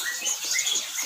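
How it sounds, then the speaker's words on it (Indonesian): Orange-headed thrush (anis merah), a young wild-caught male at a bird shop, giving soft high chirps and whistled notes against a steady faint background hiss, no talking. "ini anis merah sekalian bongkar anis merah"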